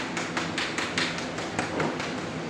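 Repeated knocking, about a dozen evenly spaced sharp taps close by at a steady brisk rhythm, with no one talking over them.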